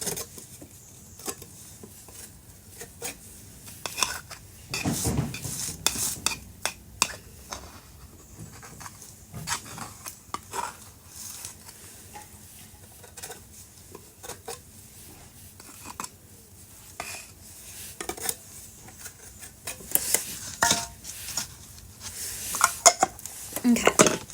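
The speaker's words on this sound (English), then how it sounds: "I'm almost done mixing this hardener in." Spatula scraping and clinking inside a container while hardener is worked into putty filler, with irregular bursts of scrapes and taps, close and fairly quiet, no voices.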